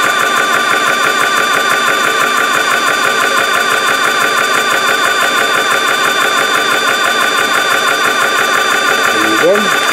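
A PCP air gun compressor runs steadily and loudly with a continuous mechanical whine and rapid rhythmic clatter, close up and unbroken throughout.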